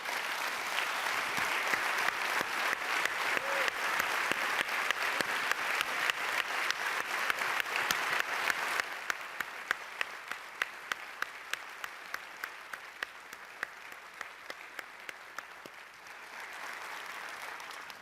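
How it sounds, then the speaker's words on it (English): Sustained audience applause for conference staff standing at a general session, dense and steady for about nine seconds, then thinning into scattered, sparser claps that fade slightly before a brief swell at the end. "please stand up so we can give you a round of applause"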